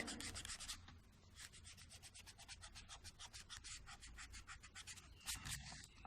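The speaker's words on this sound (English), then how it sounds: "Here the line is not perfect, so I rub that." Pencil line on paper being rubbed out with an eraser, brisk back-and-forth scrubbing strokes in a fast steady rhythm, close and alone.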